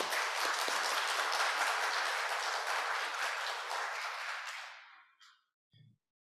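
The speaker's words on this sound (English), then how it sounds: "Please welcome him in a round of applause." An audience applauds to welcome a speaker at a plenary session on open science, a dense, steady wash of many hands clapping that gradually tapers off, ending in a few scattered claps.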